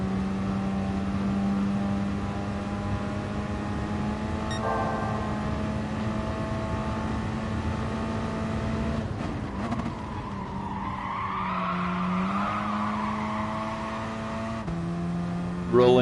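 Race car engine in a racing video game at Bathurst, a Gr.4 car held at high revs in third gear, a steady loud drone with shifting pitch, brief dips as the throttle lifts near the end.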